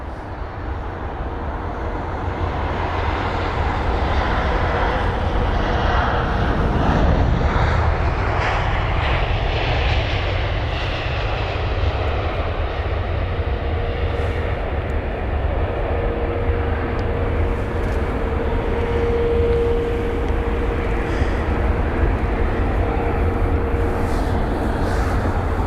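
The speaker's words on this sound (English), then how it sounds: "there's the Virgin Atlantic A350" Virgin Atlantic Airbus A350 at London Heathrow, a loud, steady jet engine roar filling the whole stretch without a break, swelling slightly in the middle as the aircraft passes close by.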